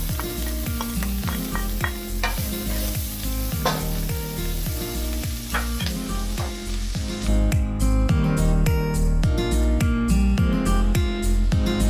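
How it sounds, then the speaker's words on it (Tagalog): Onions sizzle and sauté in a pan for kimchi Spam fried rice, a constant frying hiss under rhythmic metallic stirring scrapes that repeat steadily, close and fairly loud. "Saute your onions like maybe 3 to 5 minutes."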